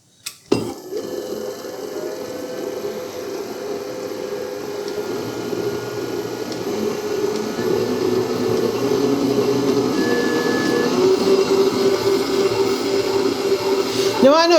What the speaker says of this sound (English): we're going to give it a little whirl because this thing is very, very quiet